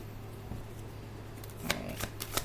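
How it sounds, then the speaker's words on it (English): A deck of tarot cards is shuffled by hand, soft papery riffles and flicks sitting over a low steady hum, with several crisp snaps near the end. "Let me just go ahead and shuffle these cards."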